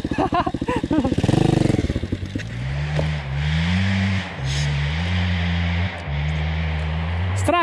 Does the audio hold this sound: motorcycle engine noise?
yes